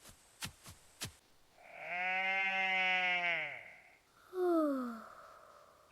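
A sheep bleats in a long, loud, wavering cry up close, followed by a shorter falling bleat, with a few sharp clicks at the start.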